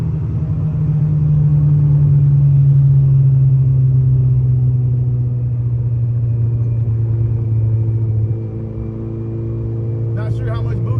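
A Honda Civic EF with a boosted engine pulls hard under throttle, a loud sustained low drone and rumble that holds steady then eases slightly near the end, with a faint voice underneath.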